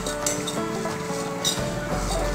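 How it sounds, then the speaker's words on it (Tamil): Flattened rice (aval) is sautéed in ghee for aval payasam, with a soft continuous sizzle under light stirring scrapes and occasional clinks of a spoon against the pan. "அவல் பொன்னிறம் மாற வரைக்கும் நீங்கள் வதக்கிக்கோங்க"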